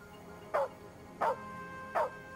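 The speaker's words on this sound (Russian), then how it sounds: "Я думала, она лает," A dog gives three sharp, evenly spaced barks about 0.7 seconds apart, clear and fairly close over a quiet background.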